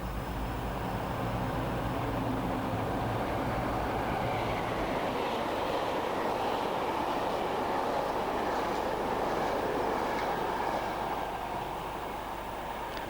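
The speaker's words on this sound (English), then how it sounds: "Heading for St Blaise is 60006, one of only two Class 60s in British steel livery, with MT China clay wagons from Cliff Vale" Class 60 locomotive 60006 in British Steel livery hauls empty china clay wagons, a loud, steady rumbling roar of diesel and rolling wagons passing close by, with a deep engine throb early on.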